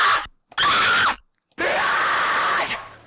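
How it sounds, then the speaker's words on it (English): Sampled human screams for a deathstep track, three harsh, loud bursts separated by short silences, the last one long and sustained. "They're just screams."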